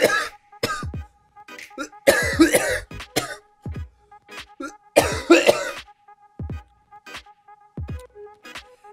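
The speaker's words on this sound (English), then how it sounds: "I've just had this really, really bad cough and headaches" A person coughs repeatedly in harsh bursts, with a few heavier coughing fits between shorter throat-clearing coughs, close and alone.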